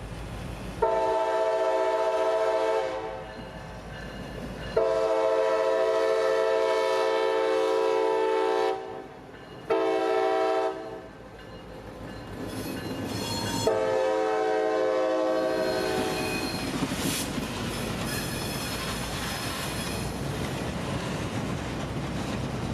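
Conrail freight train with a string of boxcars entering a rail yard in Central Florida, its horn sounding several long loud blasts separated by short gaps, followed by the rumble and clatter of the rolling cars.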